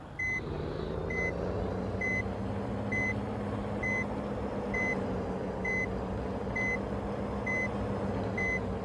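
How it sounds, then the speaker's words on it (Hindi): An SUV reversing in Bus Simulator Indonesia sounds a steady series of evenly spaced beeps over a constant low engine hum, with no talking. "सबसे पहले तो इसमें रिवर्स गियर डाल के देखते हैं।"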